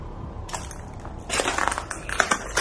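Broken glass on the floor of an abandoned school crunches underfoot in uneven, gritty bursts, close and growing louder, with faint room echo.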